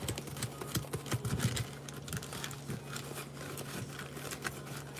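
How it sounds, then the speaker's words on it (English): Pokémon trading cards being shuffled by hand make a close, rapid patter of crisp clicks and flutters that comes in uneven bursts, loudest early on, then thinning into steadier light ticking. "Let's shuffle these as well."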